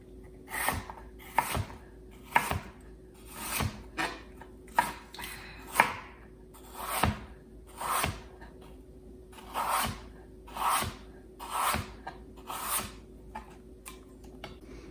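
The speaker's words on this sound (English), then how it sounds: "Now I'm going to halve them and thinly slice them like that." A kitchen knife thinly slicing halved apples on a cutting board at a restaurant kitchen, with a steady series of about a dozen crisp, close chopping strokes in an even rhythm, no talking.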